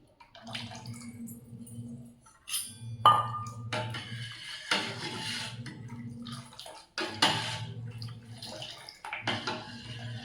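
Hot water, about four litres, is poured into maida flour in several separate gushing bursts with short pauses between them. The splashing sounds close and moderately loud.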